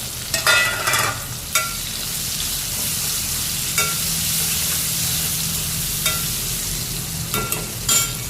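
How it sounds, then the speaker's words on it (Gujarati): Onion sizzles in tempering oil with asafoetida and fennel seeds over a low gas flame, for a spicy bitter gourd and onion curry. A steady close frying hiss runs throughout, punctuated by several scraping stir strokes. "હા, ગેસ ધીમો કરી દીધો અને ડુંગળી એડ કરી દીધી અંદર."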